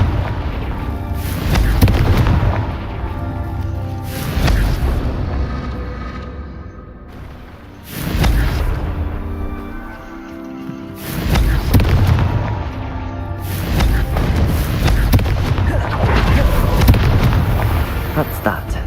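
Several booming Confringo spell blasts go off in Hogwarts Legacy, spaced a few seconds apart over a steady game score, with faint voices underneath.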